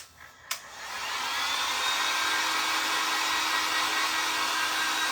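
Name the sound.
drying a DIY patch, likely with a hair dryer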